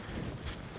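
Gusty wind buffets the microphone in a dense, low rumble, brief and fairly soft.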